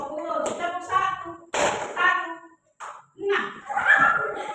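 Schoolchildren give a single crisp clap together on their teacher's call, heard among ongoing classroom talk.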